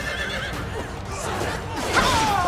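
A horse whinnies in the video game Fire Emblem: Three Houses, a rising and falling neigh near the end over a faint background bed.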